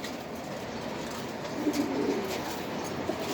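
Pigeons coo softly and steadily at a pigeon farm in Mirpur, their low murmuring blending into a dense, continuous background with no talk.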